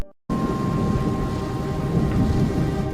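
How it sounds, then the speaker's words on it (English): Thunder from a big electrical storm around an airport rolls as a low, continuous rumble, layered with steady rain, after a brief silent moment at the start. "thunder begins to reverberate around the airport."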